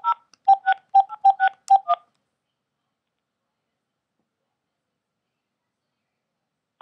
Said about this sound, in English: I'm just going to type it on the keypad so it'll go quicker